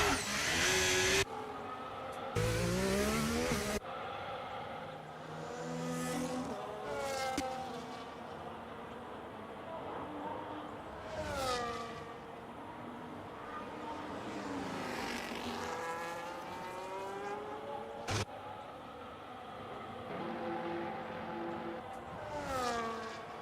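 Formula 1 cars lapping the Bahrain circuit during pre-season testing, their high-pitched engine whine rising and falling as they pass, some near and loud, others distant, with the engine note sweeping steadily through the gears.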